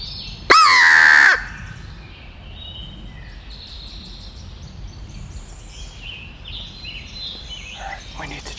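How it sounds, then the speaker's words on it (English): A turkey hunter blows a crow locator call during the opening week of Pennsylvania spring turkey season: one loud, harsh, strained caw lasting under a second, then quiet outdoor ambience with faint distant birds. "I just hit the crow call"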